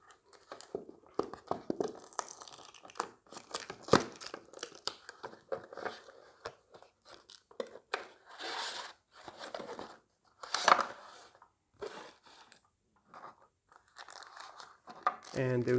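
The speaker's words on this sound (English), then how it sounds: "Let's unbox it." Packaging for an Honor Band 5i fitness band is torn and crumpled open in a burst of close crinkling, ripping and snipping noises, with pauses between the bursts of handling.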